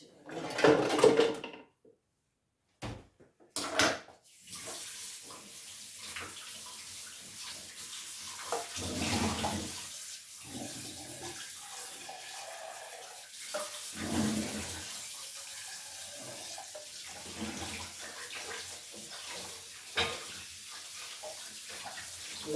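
Tap water runs while coriander is washed in a strainer at a kitchen sink, with a few clattering handling bumps early on, then a long steady hiss of flowing water with shifting splashes.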